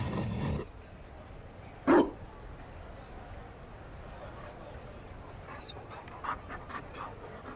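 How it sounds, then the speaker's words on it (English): Mabari war dog in the Dragon Age video game, panting softly and giving one sharp bark, with a few brief yips near the end over a quiet background. "You found a dog."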